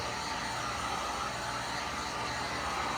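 A hair dryer blows steadily on a hand-painted canvas, a constant close whooshing roar of air and motor with no pauses and no talking.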